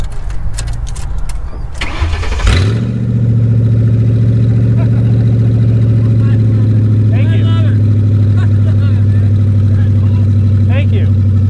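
A 2007 Ford Crown Victoria Police Interceptor P71 cranks and fires up, then settles into a loud, steady exhaust idle recorded up close, with brief voices heard before the start.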